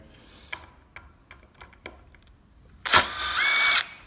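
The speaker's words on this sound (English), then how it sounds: "we just hit a piece of hickory, which is really, really hard. And it was breaking the heads off my screws" Screws are driven into very hard hickory pallet wood. Several short clicks and snaps of screw heads breaking off are followed by a loud, close burst of a whining power driver lasting about a second.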